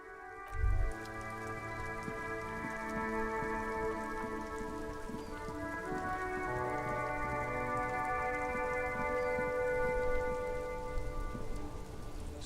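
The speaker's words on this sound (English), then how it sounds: "This rain will not let up anytime soon." Steady rain falls in the detective game Disco Elysium, a continuous soft patter under layered sustained musical tones, with one brief low thump near the start and no speech.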